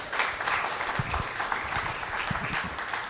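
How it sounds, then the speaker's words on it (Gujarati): Sustained applause from a conference audience at a philanthropy panel event, a dense, steady wash of many hands clapping throughout without a break. "આપણે એ બધાને એક બહુ મોટા તાળીઓથી વધાવીએ પહેલાં તો"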